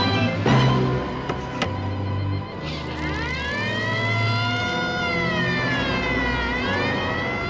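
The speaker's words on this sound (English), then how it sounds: "This is an ambulance." An ambulance siren wails steadily nearby, its rising and falling tones sweeping continuously over engine rumble, loud and unbroken throughout with no talk.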